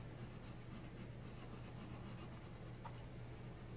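Soft-core colored pencil, a yellow from a 120-pencil Castle Art Premium Soft Touch set, rubbed steadily across paper, giving a close, continuous scratchy rasp with even back-and-forth strokes and no talking.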